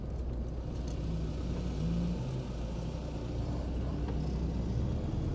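A car pulls out onto a town road in Blackpool, its engine a steady low rumble that stays close and continuous amid surrounding traffic noise, with no talking.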